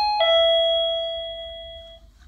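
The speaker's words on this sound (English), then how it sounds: "you can ring the bell." A battery-powered wireless doorbell gives a clear two-note chime, a quick high tone dropping to a lower one that rings on for nearly two seconds before cutting off, close and alone.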